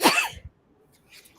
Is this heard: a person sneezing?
yes